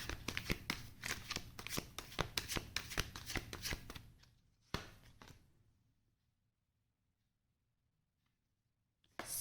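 Tarot cards shuffled by hand in a rapid run of crisp riffling flicks for about four seconds, a sharper snap, then near silence and a faint rustle at the end.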